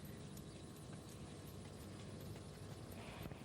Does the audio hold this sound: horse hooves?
yes